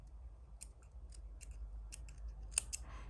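Scissors snipping yarn ends on a crochet granny square, a series of small, quiet, crisp clicks scattered over a low background hum, with one sharper cut near the end.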